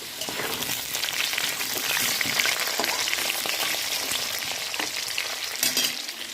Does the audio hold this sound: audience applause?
no